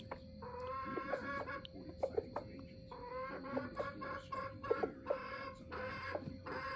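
Chickens cluck repeatedly at feeding time on a farm, several birds calling in overlapping bursts at close range over a low background murmur.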